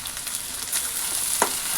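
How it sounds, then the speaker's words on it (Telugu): Tomatoes fry in a pan with a steady close sizzle, broken by the soft scrape of a brief stir near the end. "టమాటాలు కూడా కొద్దిసేపు వేయించాలి."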